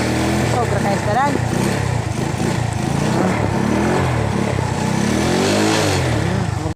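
A kick-started motorcycle engine revs loud and close on a rough road, its roar running continuously and briefly swelling, while someone talks over it.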